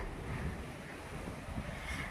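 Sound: wind blowing outdoors before a rainstorm

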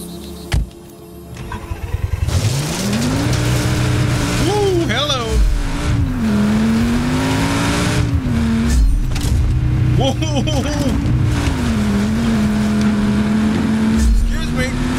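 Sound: car driving in Just Cause 3 video game

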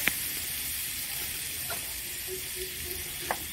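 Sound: dried red chilli powder and green chillies sizzling in pan

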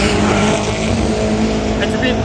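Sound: race cars at roll racing event

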